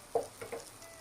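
Ground coriander, garam masala and other spices fry in an oiled pan for mixed biryani, giving a soft close sizzle with a few brief stirring scrapes, faint and steady.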